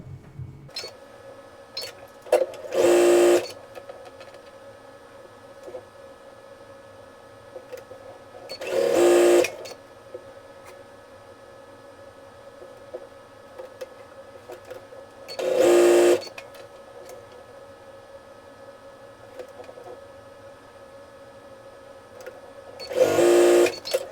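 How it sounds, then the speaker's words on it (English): A sewing machine chain piecing quilt fabric pieces with a quarter-inch foot, four loud bursts of rapid stitching a few seconds long, spaced roughly six seconds apart, with a steady faint hum between them and no talk. "I'm going to go ahead and chain piece all 4 of these"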